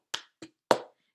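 Three sharp, dry hand claps in an uneven rhythm, two quick and close together then a louder one, performed alone as part of a cup game.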